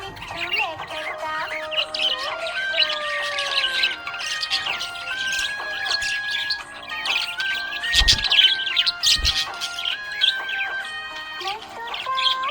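A budgie chirping happily, a quick run of bright warbling tweets and rising whistles, close and continuous, with a couple of brief low thumps partway through.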